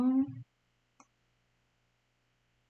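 Two sharp, isolated computer mouse clicks, spaced well apart and close to the microphone, as images are deselected in a download list; a short burst of speech comes just before them, with near silence in between.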